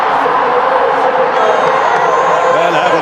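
A huge crowd of around 120,000 cricket supporters at a T20 World Cup match between India and New Zealand roars and cheers continuously, a loud, dense wall of shouting and whooping with scattered voices.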